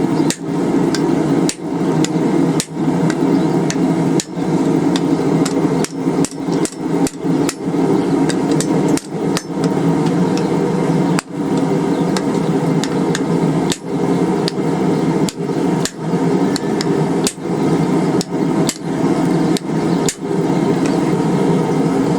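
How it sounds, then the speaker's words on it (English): A hammer strikes hot steel over and over while a chisel is forged and upset, ringing sharp, loud and close in a fast, mostly steady rhythm with short pauses, and no one talks. "now let's throw her in the fire and get working on forging out our chisel"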